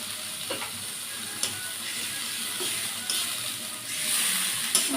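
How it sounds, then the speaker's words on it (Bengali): Spice paste with dry chilli powder sizzling in a pan after a splash of water, a close, continuous hissing fry punctuated by stirring taps that swells louder near the end. "এবার দিয়ে দেবো সামান্য একটু জল মশলাটা সুন্দর করে কষানোর জন্য"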